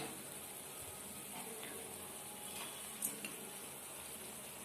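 Vegetable filling with Maggi noodles, spices and tomato sauce stirred in a hot pan, a continuous soft sizzle with a few scraping stirs and light clinks, close and fairly quiet, no talk.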